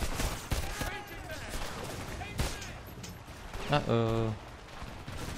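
Gunfire in the video game Homefront: sharp bursts of shots crack early and again midway, followed by a steady tonal electronic beep, with a player briefly talking over the game audio.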